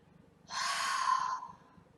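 One long, breathy exhale during cooling-breath Shitali pranayama: close and fairly loud, rising quickly, holding for about a second, then fading out, with no talking.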